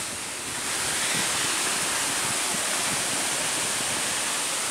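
Cascata da Pedra Branca in Três Forquilhas, Rio Grande do Sul, where the water drops partway and then splits into two falls, gives a loud, unbroken roar of falling water heard up close, with no voices.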